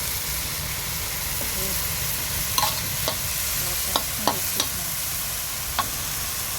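Vegetables stir-fried in a pan give a constant loud sizzling hiss, broken by a few sharp clicks and scrapes from the spatula, heard close up with no voices.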